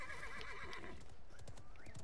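A horse in a video game neighs with a quavering whinny while hooves clip-clop in a quick, steady rhythm underneath, close and clear with no talk over it.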